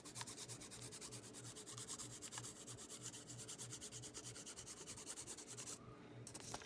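Side of a pencil lead rubbed back and forth over paper laid on a wooden gunstock, a close, quiet, rhythmic scratchy rasp in rapid repeated strokes, steady throughout.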